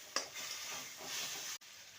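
A paste of ground white sesame and poppy seeds frying and being stirred in a pan makes a faint, steady sizzle with a light scrape at the start and a click near the end, with no talk.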